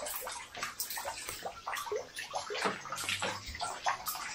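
Water rushes and splashes steadily at Batlag Falls in Tanay, Rizal, a continuous close sloshing and gurgling flow with no voices over it.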